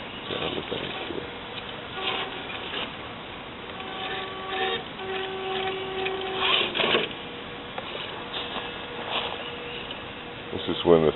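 The motor of a RedCat RS10 XT RC crawler with four-wheel steering whines steadily as the truck creeps down a bank, while someone talks over it throughout.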